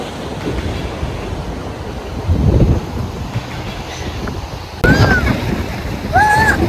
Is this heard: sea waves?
yes